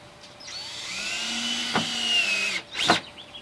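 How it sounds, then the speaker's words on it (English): A power drill drives screws into a poly drum, whirring in a steady run with a rising pitch through the middle, then a short, louder burst near the end. It is nearby and heard alone, with no talk. "I'll put the screws in and do 5 holes on the other side."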